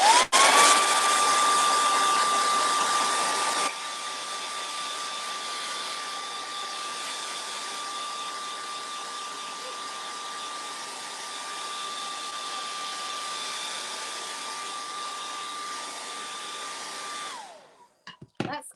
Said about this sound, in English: I'm going to blow dry this so we can do the clouds